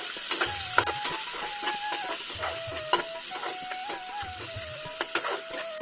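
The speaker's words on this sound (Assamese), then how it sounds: "এতিয়া এইখিনি আকৌ ধুনীয়াকৈ লৰাই ল'ম।" Peas and cauliflower curry with turmeric and salt stirred in a pan, steady hissing sizzle with repeated spoon knocks and scrapes in an uneven rhythm, close up, alongside a faint steady tone, no talking.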